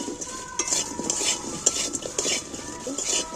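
Fried food is stirred in a pan with a sizzle and close metallic scraping of utensil against pan in short, repeated bursts, clear and fairly loud with no talk.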